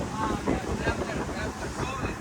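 Strong wind buffeting the microphone on the deck of a passenger ship sailing toward Labuan Bajo, a constant loud rushing roar with faint water and engine wash underneath and no clear speech.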